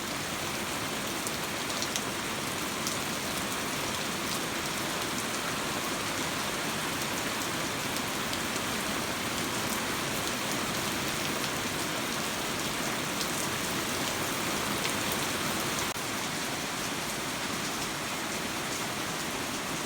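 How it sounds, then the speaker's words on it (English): Steady, dense rain hissing on surfaces, constant and enveloping throughout, with no voices. "It's raining"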